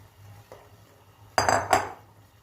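A spoon scrapes and clinks against a pot as peeled boiled chestnuts are stirred into cinnamon-spiced syrup: two short bursts of scraping close by, then quiet, with no talking.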